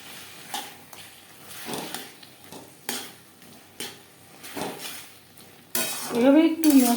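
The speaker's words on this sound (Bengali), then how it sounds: "এভাবে একটু ম্যাশ করে দেব।" Cooked taro leaves (kochu shak) being mashed in a pan, a utensil scraping and knocking against the metal in repeated separate strokes about once a second, followed by a louder sizzling burst toward the end.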